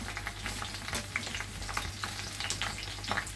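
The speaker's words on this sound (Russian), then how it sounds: "Все как следует перемешиваем." Steady crackling sizzle of cabbage rolls frying in a pan, with intermittent scraping and clinks of a utensil stirring through it.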